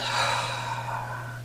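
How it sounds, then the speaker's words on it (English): A slow, audible deep inhalation during an Emotional Freedom Technique exercise, a steady breathy rush lasting over a second, close and fairly loud with no talking over it. "And you take a deep breath."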